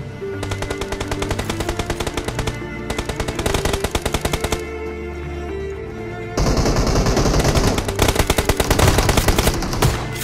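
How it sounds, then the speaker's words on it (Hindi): Rapid gunfire from a shotgun in an online shooter video game, loud, dense and continuous bursts filling the whole stretch with a heavier, harsher volley in the last few seconds, no talking. "आपके भाई को यहाँ पर मिलती है एक शॉटगन, और आप सीन देखो।"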